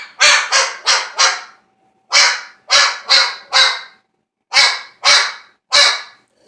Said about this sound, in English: You bark because it's Steven's fault.